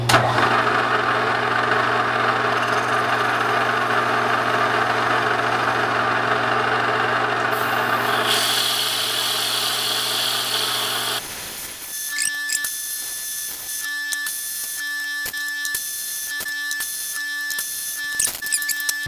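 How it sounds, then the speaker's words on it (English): A Bridgeport milling machine motor runs with a steady droning hum for several seconds, then cuts to choppy, intermittent grinding and whirring bursts as it drills a hole. "And we'll drill this hole."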